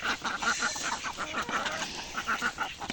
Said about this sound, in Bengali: এই যে দেখ আমার হাঁস আমার সাথে চলে আসলো।